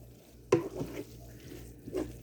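Ground beef, tomatoes, corn and onions cooking in a pan over a medium burner, with a low, steady simmer and two distinct stirring scrapes rising briefly above it.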